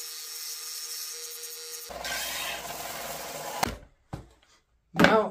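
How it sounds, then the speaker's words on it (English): Hand sanding of cut wooden easel pieces, rounding the sharp edges smooth: a steady close rasping scrub runs for several seconds, then stops, with a few brief scuffs and a sharper burst of rubbing at the end. "now is a good time to sand everything"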